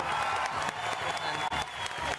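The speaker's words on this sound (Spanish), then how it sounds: "Un aplauso para él." A studio audience on a Spanish-language panel show applauds a guest, giving a short burst of dense, continuous clapping close by.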